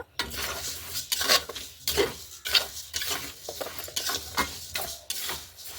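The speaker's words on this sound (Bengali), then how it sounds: "এখন মুগ ডালটা ভালো করে ভেজে নেব" Mung dal being dry-fried and stirred in a pan for khichuri, with repeated scraping and rustling strokes of a spoon against the metal over a soft sizzle, steady and close, no talking.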